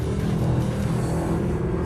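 A 2013 Mercedes-Benz SLS AMG Black Series rated at 630 horsepower holds a steady, loud engine drone under load through a long corner, with a deep rumble and no break, and no voices.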